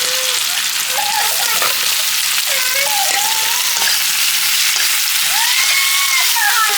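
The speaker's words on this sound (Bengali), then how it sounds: "এবার সেদ্ধ পাস্তাগুলো দিয়ে দিচ্ছি।" Boiled pasta frying in a pan with small tomatoes, producing a loud, constant close-up sizzle and crackle, while a person speaks over it.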